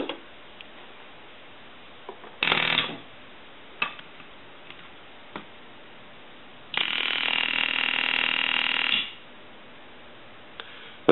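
Old telephone ringer driven by a small solenoid, buzzing in two bursts, a short one and then a longer steady ring of about two seconds, with faint clicks and ticks between them in a quiet room.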